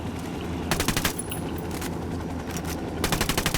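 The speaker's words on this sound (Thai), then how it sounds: "man down. ยิงยิงยิงที่บอล" Automatic gunfire in the Ghost Recon Wildlands video game, rapid close bursts at the start and end with scattered shots and steady background rumble between them.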